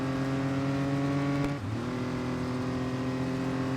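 A race car in Real Racing 3 holds top speed down a long straight, a loud, steady high-revving engine drone with a brief dip in pitch midway, as if shifting, before settling again.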